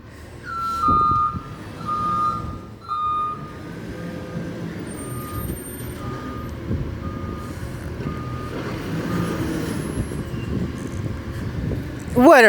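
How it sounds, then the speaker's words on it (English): An EDCO CNG garbage truck reverses with repeated electronic backup beeps, followed by a low diesel-like engine rumble and hiss. People talk and cheer over it, and a rising whistle comes near the end. "What a weird backup sound."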